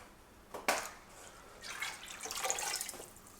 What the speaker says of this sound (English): we're going to pour apple cider in.